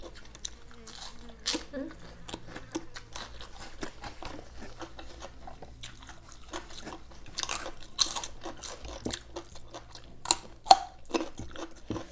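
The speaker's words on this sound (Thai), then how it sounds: "เสียงกัดแครอทดังเท่านั้นจอบ่" Crunchy bites and chewing of raw carrot, eaten alongside spicy giant squid tentacle salad with fresh vegetables, repeating irregularly up close with background talk throughout.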